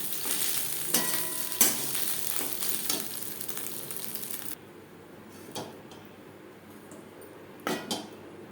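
Whole cumin seeds sizzle in hot oil in a wok that was just used for frying fish, a bright crackling fry that loudly fills the first half, then drops to a softer simmer with a few utensil clinks.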